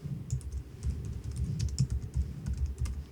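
Steady typing on a computer keyboard, a quick irregular run of soft close key clicks with a low muffled thump under each press.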